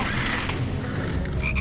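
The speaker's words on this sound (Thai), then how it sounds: "กบจ้า" A frog croaks in a Harry Potter video game, a dense, continuous croaking chorus that stays loud and close throughout, with no voices.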